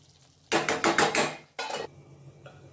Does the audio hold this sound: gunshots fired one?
no